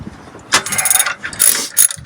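A ratchet tightens bolts while a 12A rotary engine is fitted into a Mazda RX-7 fuel-injection build. Loud, close metallic clicking comes in three quick bursts with short pauses between them, and no one speaks.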